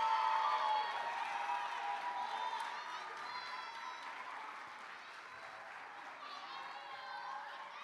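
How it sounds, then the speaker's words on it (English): An audience at an eighth-grade promotion ceremony gives Brentwood Middle School students a sustained round of applause, with scattered cheering and voices mixed in, gradually tapering off. "Give them a big round of applause."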